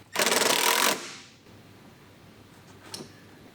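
A power tool tightens the mud flap mounting bolts on a 2007-2013 E93 BMW 328i Convertible, giving one short, loud, buzzing burst of under a second that is followed by faint clicks and handling noise.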